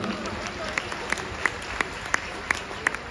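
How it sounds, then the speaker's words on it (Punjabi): A live concert audience at a show in Adelaide, Australia claps loudly, with sharp, evenly spaced rhythmic claps standing out above a steady wash of crowd applause. "ਜੇ ਕੋਈ ਆਪਣੇ ਨਾਮ ਦੀ ਜ਼ੋਰਦਾਰ ਤਾੜੀ ਮਾਰ ਦਿਓ"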